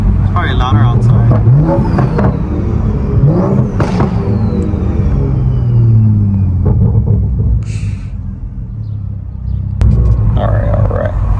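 A BMW M340i's turbocharged engine revs and accelerates loudly up close, with rising and falling engine pitch and a whooshing turbo whine that sweeps downward as it settles.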